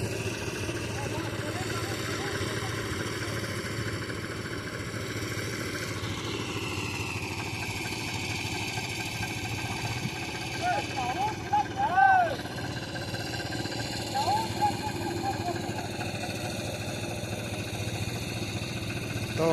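A farm vehicle engine, a power tiller or tractor, runs steadily at mid pitch, with a continuous drone throughout. People talk over it.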